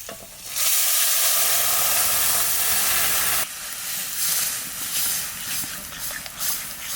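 Onions frying in a pan for Bengali dal with Malabar spinach, a loud steady sizzle and hiss with stirring, rising sharply then settling into a slightly quieter crackle.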